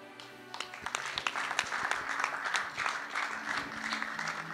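Applause with some cheering from a gospel show audience in Kinshasa, a steady wash of many hands clapping close by that holds through the whole stretch, without talk over it.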